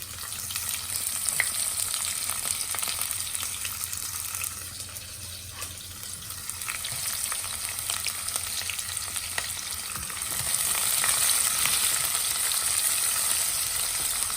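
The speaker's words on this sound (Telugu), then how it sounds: "ఇవన్నీ గోల్డెన్ బ్రౌన్లో వచ్చే వరకు వేయించుకున్నాము" Onions and curry leaves fry in hot oil for an aloo palak curry, giving a steady, close sizzle throughout with occasional stirring scrapes and a slight swell in intensity toward the end; no one speaks.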